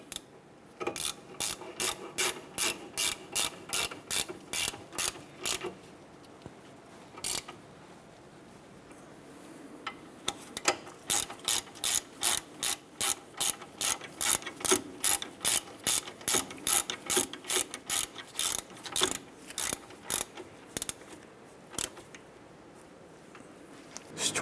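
Hand ratchet snugging down bolts on a 2008–2012 Honda Accord front suspension, crisp rapid clicking in repeated bursts with short pauses between strokes, close and clear with no talking.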